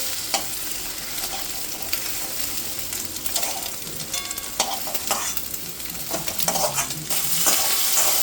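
An egg frying in a pan for a Bengali egg curry, with a steady close sizzle under scraping and stirring and occasional clinks of a utensil against the pan, with no talking.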